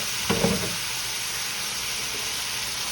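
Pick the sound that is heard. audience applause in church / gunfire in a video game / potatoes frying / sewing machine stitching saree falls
potatoes frying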